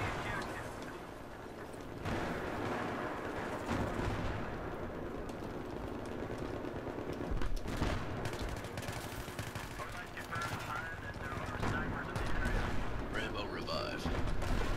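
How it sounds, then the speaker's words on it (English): Sniper rifle fire, an SVD in Battlefield 3 on Sharqi Peninsula, cracking amid dense ongoing battle noise of distant shots and explosions, with a player talking over it. "Yeah, he's shooting at me."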